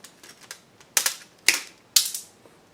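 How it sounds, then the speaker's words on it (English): Wire cutters snipping through a lighter garage door brush seal: three sharp, crisp snaps roughly half a second apart, close and loud, preceded by a few faint clicks. "so I'm going to try some wire cutters or side cutters"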